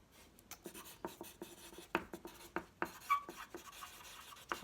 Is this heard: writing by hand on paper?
yes